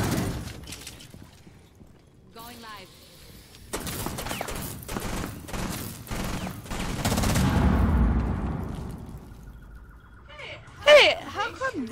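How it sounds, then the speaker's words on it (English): Gunfire in the tactical shooter video game Rainbow Six Siege, with bursts of rapid shots and crackling impacts heard at moderate distance amid game effects, followed by a few brief sharp sounds near the end. "There's somebody shooting in there."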